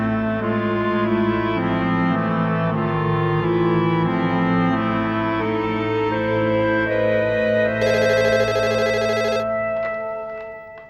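A telephone rings repeatedly with a sustained, tonal electronic ring that holds steady for several seconds, growing brighter and louder near the end before cutting off, with no voices over it.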